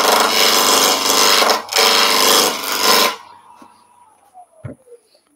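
A woodturning gouge cuts into spinning wood on a lathe, a loud, harsh rasping scrape for about three seconds with one brief break, then it stops, leaving quieter workshop noise and a couple of light knocks.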